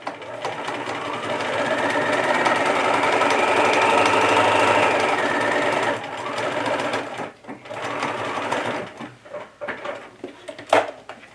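A home sewing machine stitches fabric for a bag, a close, steady whirring run for about six seconds, then stops, followed by clicks and handling of the fabric and machine.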